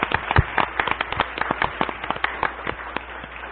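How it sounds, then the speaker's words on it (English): A modest audience at a county government work session claps in a thin, uneven patter of distinct hand claps, moderately close and fairly quiet, with no talking over it. "Let's give them a round of applause for the work they do."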